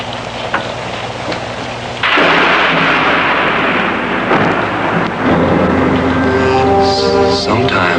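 Thunder rumbles loudly during a storm, a heavy sustained roar with rain underneath, rising abruptly partway through, with music tones emerging toward the end.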